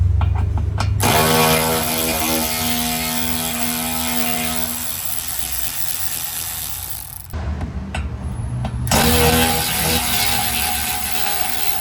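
A ratchet removes 10mm bolts along the bottom of the rear bumper on a 2021-2026 Chevrolet Tahoe, making a loud, close mechanical whirring run, a brief pause, then another run.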